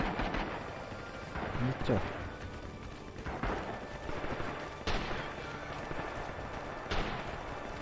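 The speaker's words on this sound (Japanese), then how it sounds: "残り7秒で砲撃撃っちまうか、モーターを" Mortar and artillery fire in Rising Storm on the Betio map, with several heavy booms spaced a few seconds apart under ongoing battle noise as a player speaks.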